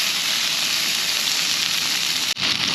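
Food sizzles loudly and continuously in a pan on a camping stove inside a tent, a dense steady crackling hiss with one brief dip near the end.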